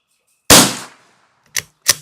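A rifle fires a single sharp shot during an SK rifle match after stock bedding and barrel re-crowning, a loud close crack with a short decay, followed by two fainter clicks of the action.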